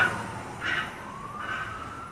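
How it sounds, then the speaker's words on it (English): A fire truck siren sounds outside, faint and distant, its wail slowly rising and falling over a low background hum. "Sirens, you can hear that?"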